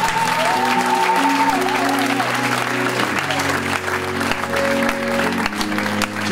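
Church congregation applauding steadily throughout, a dense sustained wash of clapping with cheers over sustained keyboard or organ chords at a Congolese worship service.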